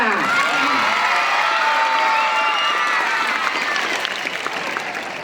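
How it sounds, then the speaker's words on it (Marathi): An audience at a school's annual gathering claps loudly and continuously, with cheering and children's shouts mixed into the dense applause throughout. "सगळ्यांनी पहिल्यांदा पुन्हा एकदा टाळ्या वाजून घ्या"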